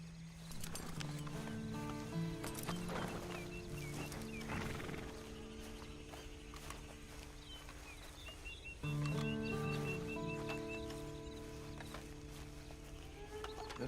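Horse hooves clip-clopping in Red Dead Redemption 2, steady and fairly loud alongside whinnies and a layered musical and ambient game score, with a brief surge near the end.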